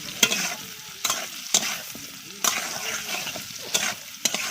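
Okra frying and being stirred in mustard oil in a pan, a steady sizzle broken by repeated sharp scraping stirs of a utensil, close and fairly loud with no talking.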